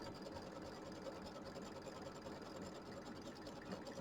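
A computerized embroidery machine runs a tack-down line around quilt batting, with a fast, even needle chatter and a low motor hum throughout, steady and faint, with no voices.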